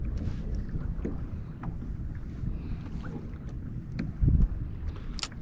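Wind over a choppy sea buffets the microphone while a pedal kayak moves into the wind against the tide. The low rumbling gusts are steady and close, with faint splashes and a brief louder thump, and no one talks.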